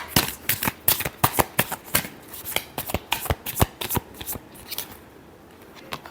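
Tarot cards shuffled in a quick run of crisp, sharp riffles and snaps, close and fairly loud, with no voice over them and a short quiet stretch near the end.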